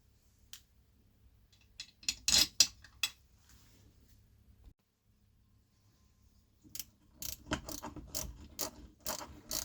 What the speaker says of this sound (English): This is tight, but you should get a 1/4 inch ratchet in there